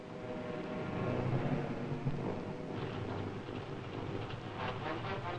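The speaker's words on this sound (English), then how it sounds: "A heavy storm left a trail of damaged ships." A heavy storm at sea battering ships off the Normandy coast in 1944, heard as a continuous loud roar of wind and rough water with low rumbling that may include thunder, from an old wartime newsreel recording.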